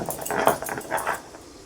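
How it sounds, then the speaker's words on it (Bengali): Cumin seeds are ground on a stone grinding slab, giving a rhythmic series of scraping, knocking strokes, close and fairly quiet, that fade out near the end. "এখন বেটে নেব জিরে।"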